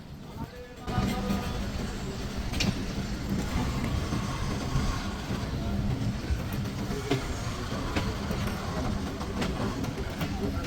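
IR Mail local train pulling out of Kakonhat railway station in Bangladesh alongside a second train, heard from on board as a steady, continuous rumble and rattle of the moving carriages, with faint voices beneath.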